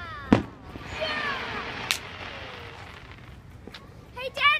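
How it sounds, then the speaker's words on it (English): Fireworks going off at a park: a couple of sharp booms and a sizzling crackle between them, moderately loud, with a wash of crowd noise and voices underneath. "How do you like the fireworks"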